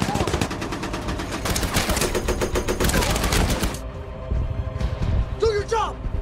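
Heavy tank and machine-gun fire erupts in a World War II battle scene from the film Fury, dense rapid bursts and booms that cut off abruptly, followed by quieter rumble with shouting voices over it.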